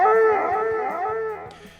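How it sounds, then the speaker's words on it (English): A dog gives a drawn-out, wavering howl-like bark close by, loud at first and fading over about two seconds, over a soft background with faint regular ticking. "if you upset or alert the dog with your clandestine actions, well, it can bark up a storm"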